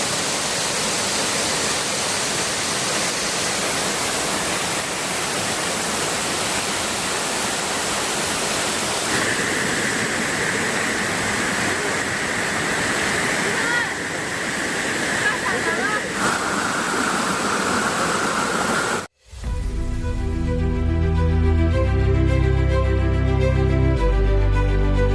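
Waterfall in Karangasem, Bali, roaring as a loud steady rush of falling water, with a faint tone partway through, before it cuts abruptly to music.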